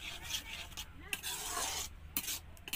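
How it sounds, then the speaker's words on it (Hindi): Masala for matar paneer stirred in a pan over raised flame, a close, continuous scraping and rubbing with faint sizzle, punctuated by brief louder scrapes of the spoon against the pan. "इसमें जब तक उबाल नहीं आता है तब तक कंटिन्यू इसे चलाते रहना है, चलाना बिल्कुल ही नहीं छोड़ना है।"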